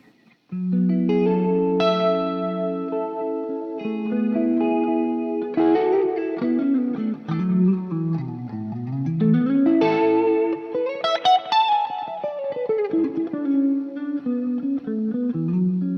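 Electric guitar through a silent home rig with chorus engaged, a long melodic phrase of shimmering, slightly wavering notes with bends and slides, played continuously without any voices.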